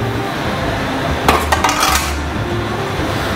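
An eggplant is set onto a ceramic presentation plate in a restaurant kitchen, a few brief clinks and taps of plate and utensil rising over a constant loud hum of the range hood.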